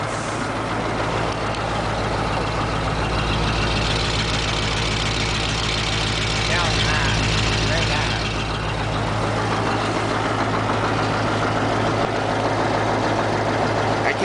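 A Ford F800 truck with a Cat V8 diesel engine idles close by, a steady, heavy low rumble with a constant throbbing hum that holds unbroken throughout, with a brief voice partly over the engine.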